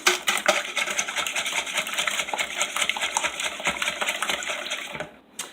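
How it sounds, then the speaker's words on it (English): Eggs being broken up and mixed in a dish for a bruschetta frittata, quick rhythmic clicking and wet tapping of a utensil against the container, close and steady, fading just before the end. "all I'm going to do is break the yolks in my eggs a little bit and mix those up a little bit."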